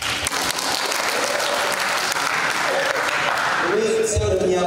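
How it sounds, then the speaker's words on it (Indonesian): An audience claps steadily at a business incubator event, sustained applause filling the room with a voice briefly speaking near the end. "Boleh dong aplaus"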